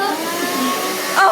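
A vacuum cleaner switched on to suck up a spider, a loud steady whining motor drone close by, rising slightly at the end.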